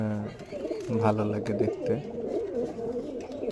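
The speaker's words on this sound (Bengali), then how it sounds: "আর সাদা স্যাঁত স্যাঁত কবুতর তো সবারই পছন্দ, সাদা কবুতর।" White pigeons with black tails coo nearby, their throaty calls running beneath a person speaking throughout.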